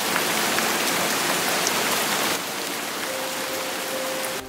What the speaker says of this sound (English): Hey, Wes, still raining leh.